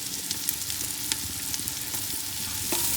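Spring onion sautés in a pan with a steady, close sizzle and crackle, broken by light scraping stir sounds, and nobody speaks.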